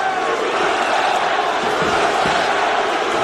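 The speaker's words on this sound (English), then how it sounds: "USA chants here at Barclays Center as this New York crowd tries to get behind one of their own" A New York crowd at Barclays Center chants "USA" during the UFC 223 fight between Nurmagomedov and Iaquinta. The arena roar is loud, dense and continuous throughout.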